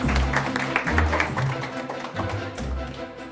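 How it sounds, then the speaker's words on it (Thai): A village audience at a community event claps for an invited guest speaker, a moderate, fairly close wash of applause over low background music and faint voices. "ขอเสียงปรบมือให้คุณหวานใจนะครับ"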